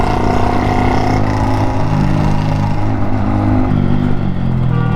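A Yamaha MT-15 motorcycle engine revs loudly up close, the throaty exhaust rising and falling in a continuous roar with no talk.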